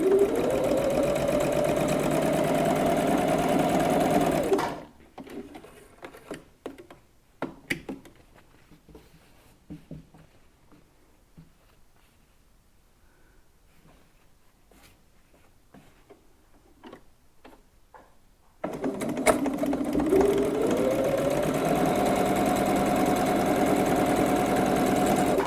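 A sewing machine stitches quilt block pieces for a Storm at Sea block, running steadily and close for several seconds, stopping for a quieter stretch of small ticks and handling noises, then running again.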